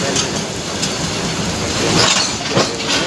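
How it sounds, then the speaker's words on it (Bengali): A train rumbles past close by, wheels clattering steadily with a loud, continuous roar and faint rhythmic clacks. "ওই যে যাচ্ছে ট্রেন, দেখছো?"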